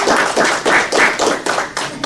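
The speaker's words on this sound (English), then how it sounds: "give yourselves a round of applause for that" A small group claps in uneven bursts at an awards event, a close, loud round of applause with distinct pulses rather than a smooth roar, and no talking over it.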